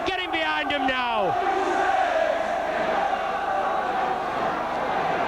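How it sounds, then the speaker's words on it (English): Large St Helens rugby league crowd at a Saints match against Wigan, cheering and roaring loudly and continuously, with a surging swell of voices sustained throughout and a commentator's voice briefly at the start. "The popular side crowd, and no doubt all the Saints faithful getting behind them now"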